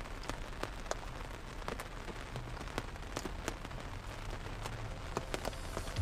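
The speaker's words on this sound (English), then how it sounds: "I don't know when it's gonna stop raining." Light rain pattering on a surface, soft and fairly distant, with scattered sharper drips over a steady faint hiss and no talking.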